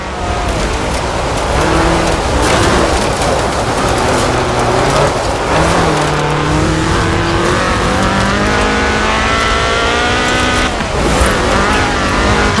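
A Ford Escort RS 1800 rally car with a fuel-injected 1790cc Cosworth BDE engine in Forza Horizon 4 drives hard, its loud engine revving up and down through repeated gear changes in a continuous close roar.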